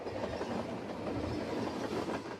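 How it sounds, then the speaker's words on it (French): A train rolls past on a railway line right beside homes built on a former dump, a continuous, dense rumble with faint rhythmic clatter holding steady throughout. "Lorsqu'un train passe, ça vibre et ça fait du bruit."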